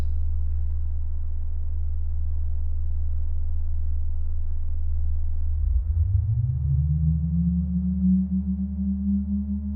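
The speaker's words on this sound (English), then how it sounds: "What we're doing is we're actually making the plant part of the circuit of the synthesizer." A synthesizer with a living plant wired into its circuit drones on a low, steady tone, then glides upward into a higher sustained pitch partway through, loud and unbroken with no speech.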